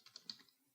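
Faint, quick taps on a computer keyboard while a password is typed, a few light clicks in an uneven burst that fades out, with no talking.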